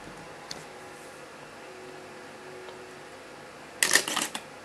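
Quiet room tone with a faint tick, then a short burst of rapid mechanical clicks as Sony SLT-A55 and DSLR-A900 camera shutters fire with flash near the end.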